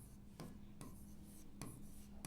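Set notation being written on a board in a classroom, a few sharp marker or chalk strokes spaced out over a low steady room hum, quiet and close with no talking.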